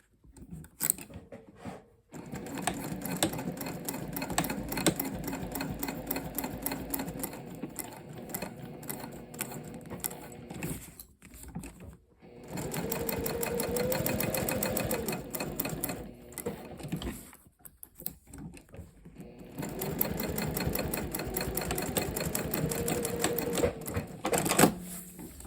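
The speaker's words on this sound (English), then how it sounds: "you just go to the sewing machine and you're going to start" A sewing machine stitches a slim fabric wallet in three long runs of rapid, steady mechanical whirring and clatter, close up, separated by short pauses. No one speaks.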